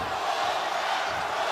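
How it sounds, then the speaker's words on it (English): Arena crowd chanting near the end of the eighth round of a championship boxing match between Emanuel Navarrete and Oscar Valdez, a steady loud broadband roar of many voices with no break across the short stretch. "Crowd starting to chant here as we come to the end of 8"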